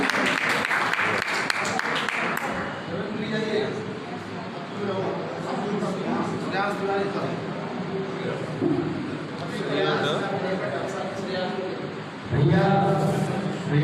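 An audience claps in welcome at a school English Week closing program, a steady wash of applause running through the whole stretch beneath an announcer's voice.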